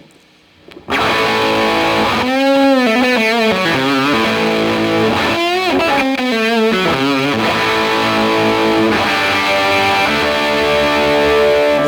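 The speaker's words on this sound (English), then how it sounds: "if you flip one of them, it'll sound like this, the harmonics cancelling out, the lower harmonics." An electric guitar with the bridge and center pickups out of phase, lower harmonics cancelled, giving a thin, hollow, nasal tone with weakened bass, ringing through several bent and wavering notes for a long stretch, no talking.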